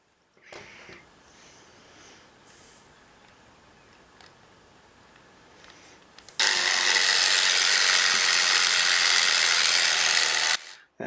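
A Schuco Examico 4001 toy car's gear shift mechanism gives off faint, scattered ratcheting clicks. Then a loud, steady mechanical rush holds for about four seconds before cutting off abruptly.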